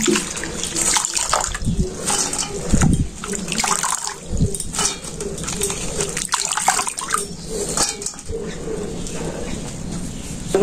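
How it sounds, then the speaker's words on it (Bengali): Sliced potatoes for a fry being washed in a pot of water, with sloshing, splashing and hand rubbing, while pigeons coo steadily nearby in a village outdoor kitchen. "আমরা আলু ভাজিটা ধুয়ে নিই"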